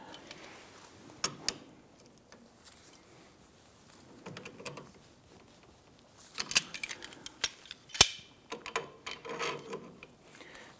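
Jam nut being snugged down on the front left outer tie rod of a 2011-2021 Jeep Grand Cherokee, faint intermittent metallic clicks, ratchet ticks and tool clatter, close with quiet pauses between.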